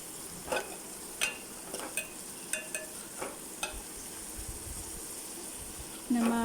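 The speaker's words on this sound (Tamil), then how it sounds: "நம்ம அடுப்பை லோ ஃப்ளேம்லேயே வச்சுட்டு இப்போது நல்லா வதங்கிடுச்சு." Onion and tomato sizzle softly in a pan over a low flame for egg gravy masala, with a spoon scraping and tapping the pan in a slow, regular rhythm.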